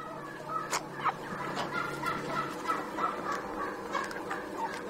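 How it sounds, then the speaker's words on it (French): Chickens moving freely between a straw-bedded poultry barn and an outdoor aviary, a steady murmur of clucking and fowl calls with occasional louder squawks, moderately distant and continuous. "Les poulets évoluent à leur gré entre le bâtiment et la volière extérieure."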